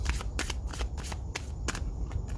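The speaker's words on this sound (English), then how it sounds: "I didn't feel like shuffling all the other decks that way, but this one does want to be shuffled that way" A deck of cards being shuffled close up, a quick run of crisp riffling bursts repeating through the whole stretch with no voices.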